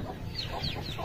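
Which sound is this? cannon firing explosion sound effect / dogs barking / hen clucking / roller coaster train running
hen clucking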